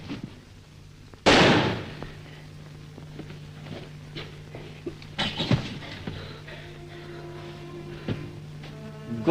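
A single sharp gunshot cracks loudly early on in a black-and-white Hindi film scene, followed by scattered faint knocks and footsteps in a quiet room.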